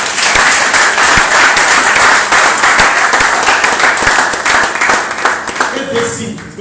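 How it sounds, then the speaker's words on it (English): An audience at a motivational talk claps steadily for a few seconds, dense and close, with murmured voices mixed in before it thins toward the end. "Can't you clap for that person?"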